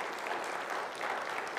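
A church congregation claps in a steady, dense wash of applause that runs evenly for the whole short stretch, with no voices rising above it.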